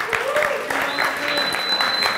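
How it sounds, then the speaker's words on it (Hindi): Audience applause at a youth leadership conference, a dense burst of clapping from a crowd with some voices mixed in. "इसके लिए तालियां बजाते जबरदस्त,"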